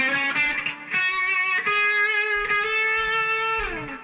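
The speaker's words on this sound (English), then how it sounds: "So when you play it up to full speed, we have something that sounds like this." Distorted electric guitar rips through a fast lick of bending, sustained notes with a few picked attacks, loud and close, played alone without talk.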